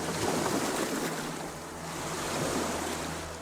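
Ocean waves surge and wash continuously, a broad rushing roar that swells and eases with wind noise over the microphone, with no voices present.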